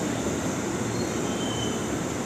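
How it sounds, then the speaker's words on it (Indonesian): A KRL commuter train rolls back toward the Bukit Duri depot, giving a steady, moderately loud rumble of wheels on rails with a faint high squeal running through it. "KRL pulang Depo Bukit Duri"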